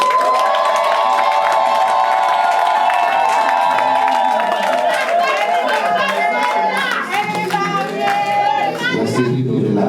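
Wedding guests at a civil marriage ceremony erupt in loud, sustained cheering, with high, tonal voices ringing out over a dense crowd for the whole stretch.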